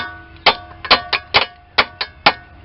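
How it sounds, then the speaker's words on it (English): Seven or so sharp metallic whacks of a ratcheting hammer on a Lincoln Mark VIII ball joint, irregularly spaced, each ringing briefly before the next, close and loud against a quiet background. "a couple whacks with our ratcheting hammer."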